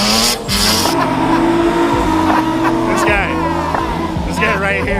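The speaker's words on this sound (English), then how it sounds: "This is the Volvo, and it's drifting." A Volvo drifts around Ozarks International Raceway, its engine holding a steady, strained drone with bursts of tire squeal, while a voice talks over the close, continuous noise.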